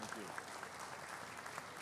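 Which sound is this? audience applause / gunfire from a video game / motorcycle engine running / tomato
audience applause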